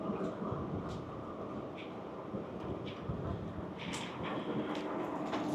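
A TGV double-decker train at Annecy station, a steady low rumble of the stationary train with faint station ambience and occasional light clatter, fairly distant and continuous, no talk heard.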